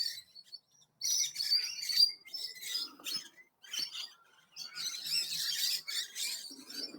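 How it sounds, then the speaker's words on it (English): Lorikeets chirping and chattering in bursts of high, squeaky calls in botanical gardens in Bendigo, Victoria, Australia, fairly close, with brief pauses between flurries. "These are lorikeets, the birds that are chirping."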